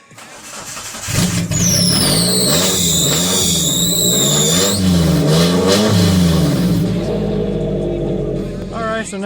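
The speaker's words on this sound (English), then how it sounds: "Alright, we're gonna fire it up." A front-wheel-drive UCar race car engine cranks, fires up and revs loudly and continuously at close range, the pitch rising and falling, with a high whine or squeal above the engine noise.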